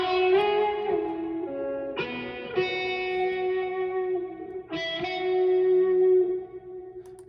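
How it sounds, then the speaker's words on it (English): Guitar-doubled vocals pass through a big Valhalla VintageVerb reverb, sustaining as a dense, washy wall of sound. Tones are held and then re-struck a few times, each leaving a long, lingering tail. "Big Valhalla reverb"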